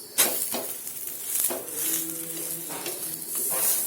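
A cucumber thalipeeth sizzles softly in a pan, broken by a few sharp clinks and scrapes of a utensil against the metal.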